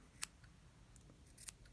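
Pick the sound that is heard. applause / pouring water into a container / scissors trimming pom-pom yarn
scissors trimming pom-pom yarn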